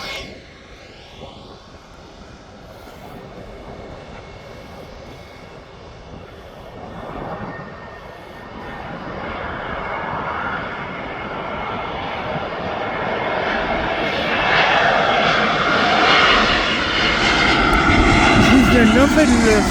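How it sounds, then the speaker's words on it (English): An airliner arriving at Birmingham Airport approaches from behind, its engine roar building steadily from a distance to loud and near by the end, with voices talking during the approach. "Oh, we've got a flight coming in behind us."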